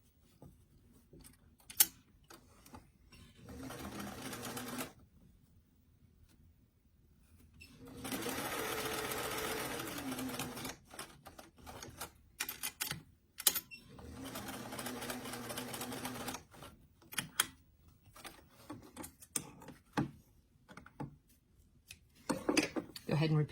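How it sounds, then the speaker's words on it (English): A sewing machine stitches the front of a doll jacket to its back in several bursts of steady whirring, each a few seconds long, separated by pauses with small handling clicks and ticks. "we're just going to sew the jacket front to the back"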